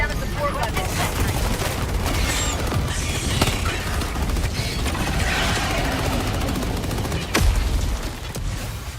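Rapid automatic fire from a deployed sentry gun against swarming bugs in a shooter game, a dense continuous barrage with explosions and clatter, no talk.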